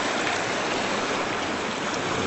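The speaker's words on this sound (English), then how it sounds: "The creek is cutting out on the other sides and making new pathways." A creek flows steadily, a dense, continuous rush of water that stays even and close throughout, with no voices.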